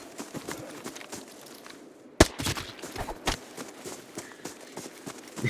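An unsuppressed gun fires in Arena Breakout: Infinite with a sharp, fairly quiet report, followed by a few more bursts over steady footsteps and movement noise.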